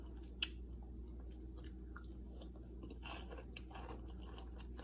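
Quiet close-up chewing of crunchy homemade apple pie fritters, with soft irregular crunches and squishy bites over a low steady hum, one sharp click near the start.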